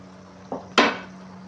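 Julienned ginger dropped into a karahi pot while cooking Peshawari charsi chicken karahi, giving a soft brief clatter followed by a louder sizzling rustle that fades over a steady background hum.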